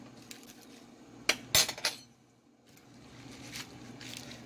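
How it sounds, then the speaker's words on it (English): Greens, beans and olive oil being mixed together in a bowl, giving a few sharp clinks and scrapes of utensils against the dish over a low steady room hum. "And you mix that all together."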